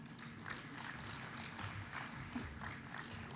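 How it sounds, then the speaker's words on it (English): Faint, steady applause from a conference audience, even clapping carried at a distance with no voices over it. "Another hand of applause for Living Earth."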